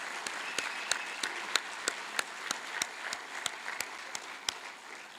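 Scattered, rhythmic clapping from a modest audience at a Republican Party candidate forum, steady claps without cheering, fairly close and moderately loud throughout.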